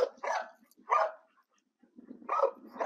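Dogs at a dog shelter near Prague bark in three distinct bursts, moderately close, with a brief quiet gap before the last outburst and no talking.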